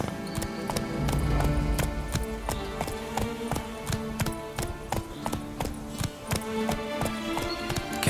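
A horse galloping in The Witcher 3, hooves pounding in a fast rhythmic clip-clop close up, with rattling tack and faint ambient game sounds throughout.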